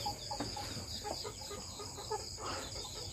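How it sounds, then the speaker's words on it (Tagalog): Laying hens cluck softly at night, roosting close together in a rural coop, with steady low murmuring clucks over a constant background hum. "Yan yung mga nangingitlog kong inahin."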